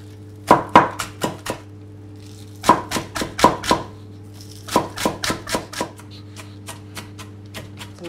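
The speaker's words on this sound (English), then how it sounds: "Finely chop them." Knife chopping food on a board for bao zi filling, in three quick bursts of sharp, close, rhythmic taps separated by short pauses, with a steady low hum underneath.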